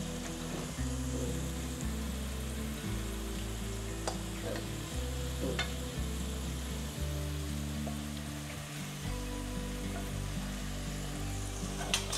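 Curry leaves and urad dal fry in hot oil for an Indian amla (gooseberry) pickle, a loud, continuous close sizzle with occasional stirring, no voices heard.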